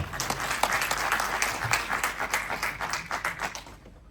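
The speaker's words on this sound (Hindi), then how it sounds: "मैं आपके लिए ताली बजाना चाहता हूँ।" Applause from the audience at an Urdu poetry recital, a lively burst of many hands clapping with distinct sharp claps in the mix, fairly close and fading toward the end.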